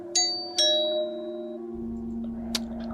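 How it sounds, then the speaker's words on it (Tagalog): A doorbell chimes twice in quick succession, each bright ding ringing out and fading, then a sharper knock-like tap follows over a steady indoor hum. "sino kaya ito nagdo-doorbell?"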